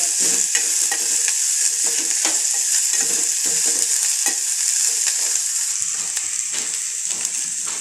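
Cabbage and chillies stir-fry in a hot pan with turmeric, a loud, constant sizzle broken by repeated scraping stirs, with no voices over it.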